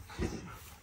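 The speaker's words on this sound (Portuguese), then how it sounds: "Olha o cachorro me rodeando." A dog on a rural farm property circles and gives a single short, faint whimper, a brief soft whine lasting under a second at low volume.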